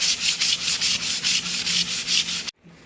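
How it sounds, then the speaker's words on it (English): Hand sanding of a damaged hardwood floor with 400 grit sandpaper, a close, loud rhythmic rasp of about ten back-and-forth strokes that stops abruptly near the end. "I got my first sanding done, and we're going to move to a 400 grit just to make it nice and smooth"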